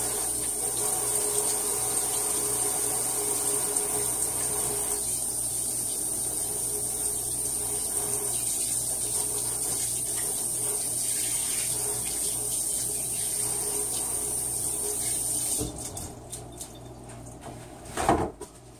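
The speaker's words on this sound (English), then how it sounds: "let me wash my hands" Kitchen tap water running steadily into a sink while hands are washed, a constant close splashing stream that stops near the end, followed by a few small clunks.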